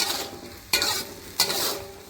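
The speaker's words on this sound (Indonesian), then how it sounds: "Aduk kembali ya. Tambahkan juga 1/4 sendok teh penyedap rasa." Seasoning gets stirred into a dish in a frying pan: a steady sizzle underneath, with two sharp scraping strokes of a utensil against the pan.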